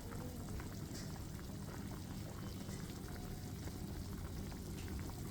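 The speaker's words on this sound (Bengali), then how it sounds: "ফুটছে জল।" Water boiling in a pot on a gas stove while fish curry cooks, a steady dense bubbling hiss that stays constant throughout, close and fairly quiet, with no voices.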